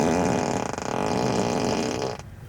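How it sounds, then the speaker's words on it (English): Ludicrous variant of a car's seat fart sound effect: a long, loud, buzzy raspberry that sputters briefly partway through and runs about two seconds before stopping abruptly. "Or you have a ludicrous fart."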